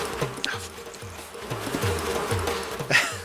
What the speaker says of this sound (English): I got stung by wasps. Oh, the wasps. I thought they were bees.